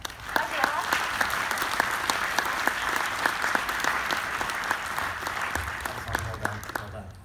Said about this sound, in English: And one more round of applause for our robot Sophia.